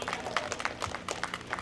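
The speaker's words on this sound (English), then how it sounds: "How about a round of applause for Swift, the Sonoran Desert Tortoise?" A small audience at a live tortoise presentation gives brief, scattered applause for Swift, a Sonoran Desert tortoise, with light uneven claps for a moment and no talking.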